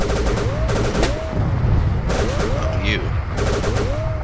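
In the Call of Cthulhu video game, a Tommy gun fires in loud repeated bursts of rapid automatic shots with short pauses between them, heard alongside voices and whooping tonal game sounds.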